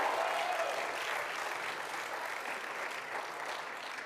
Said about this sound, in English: A huge round of applause as they leave.